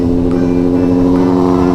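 A Suzuki 400 big motorcycle running loud and close, a steady rumbling engine note held for a moment without a clear rise in revs.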